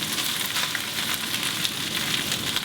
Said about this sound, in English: it goes to the pan, while that is sauteing a little bit